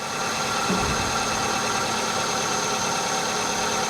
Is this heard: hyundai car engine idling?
yes